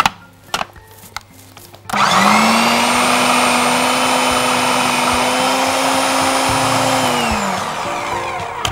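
A blender runs steadily for about six seconds mixing homemade Egyptian-style sausage ingredients, its loud motor whine holding a constant pitch before spinning down, after a few brief clicks of the lid being fitted.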